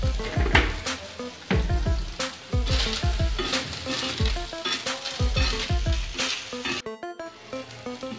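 Previously boiled chicken with salt and a little red chilli sizzles loudly in a pan. Repeated bursts of stirring clatter and scraping sit over a constant frying hiss, with no talk.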